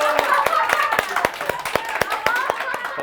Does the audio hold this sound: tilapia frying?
no